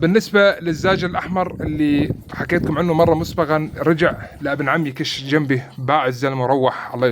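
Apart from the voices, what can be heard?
None of the usual background noises is heard.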